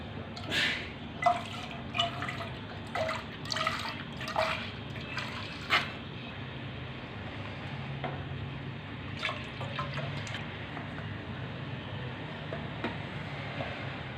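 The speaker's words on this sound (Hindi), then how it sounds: "सबसे पहले एक पैन में दूध को शामिल कर देंगे" Milk poured into a pan for a strawberry custard trifle, heard as soft liquid splashing and dripping, with a few brighter splashes early on and a low steady background hum throughout.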